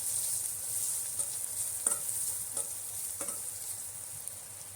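Agri masala is stirred into vegetables frying in a pan, a quiet steady sizzle broken by a few soft scraping strokes of the spoon.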